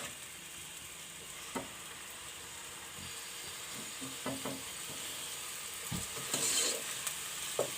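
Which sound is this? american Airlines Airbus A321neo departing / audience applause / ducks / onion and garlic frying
onion and garlic frying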